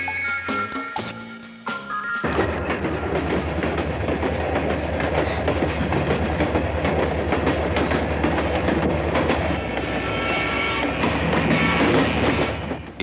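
Train rolling along railroad tracks with rhythmic clickety-clack of wheels over rail joints, a loud, continuous rumble close by, with no voices.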